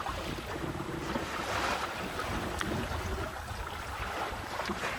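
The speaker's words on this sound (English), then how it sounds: "Got a boat overtaking me here." A boat's engine drones steadily past on open water, mixed with wind buffeting and the wash of waves, no one speaking.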